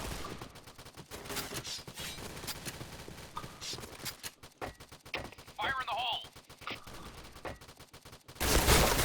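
Rapid bursts of gunfire crackle repeatedly amid electronic game sounds and clattering effects, growing louder toward the end.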